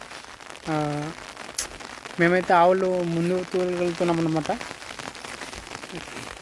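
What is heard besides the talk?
rain falling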